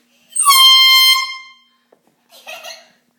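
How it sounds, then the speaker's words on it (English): Dollar-store handheld air horn blasting one long, loud, harsh tone, followed after a pause by a shorter, weaker sputtering blast. "Air horn."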